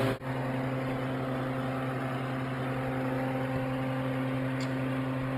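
A blower door test fan runs steadily in a Minneapolis home, producing a constant low, even hum with a faint high whine, close and unchanging throughout with a brief bump at the start.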